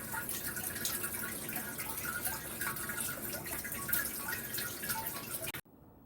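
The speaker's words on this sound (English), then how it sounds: "my tower started the water cycle again" Water trickles and drips steadily through a Tower Garden hydroponic tower during its watering cycle, a continuous soft splashing patter in the background that stops abruptly near the end.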